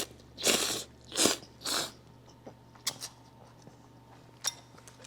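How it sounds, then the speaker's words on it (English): Someone loudly slurps spicy miso vegan ramen noodles in three long sucking bursts, then chews and munches with soft wet smacks, up close and without talking. "So in Japan, you slurp your noodles."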